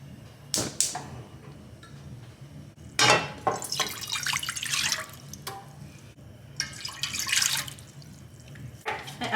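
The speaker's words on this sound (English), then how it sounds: "I added 3 cups of water." Three cups of water pour into a pot in several uneven splashing bursts, near and fairly loud, with short pauses between pours.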